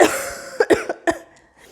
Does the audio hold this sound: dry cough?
yes